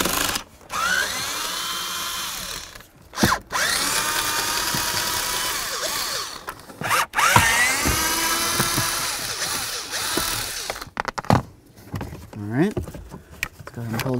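Power drill driving a Torx bit to remove the three blower motor bolts on a 2002-2008 Dodge RAM 1500, with several whirring bursts separated by short pauses, close and fairly loud.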